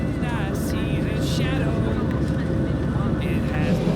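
Steady, loud roaring drone of an airplane cabin in flight, a constant low rumble filling the whole clip, with a faint voice briefly under it.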